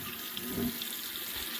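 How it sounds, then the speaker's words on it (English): Hot water runs steadily from a tap into a cast iron pan in a kitchen sink, a continuous splashing hiss with no pauses. "let it kind of fill up with water"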